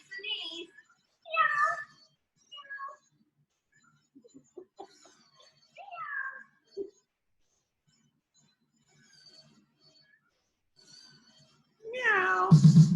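A young child imitates a cat's meow during a preschool animal-movement exercise, with several drawn-out vocal meows spread across the clip and a louder final one, separated by quiet gaps and soft talk.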